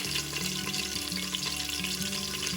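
Thinly sliced onion and green chillies sizzle in hot oil with whole spices, a steady close frying crackle that fills the whole stretch without voices.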